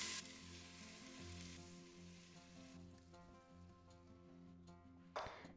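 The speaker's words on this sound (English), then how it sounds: "Saute it in butter and spices for a few minutes." Washed rice sautés in butter with cardamom pods, star anise and bay leaves, giving a steady close sizzle that stays soft and even, with a brief louder stir near the end.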